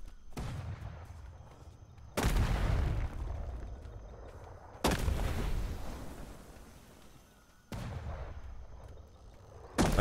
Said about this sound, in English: Oh, they're shooting at me again.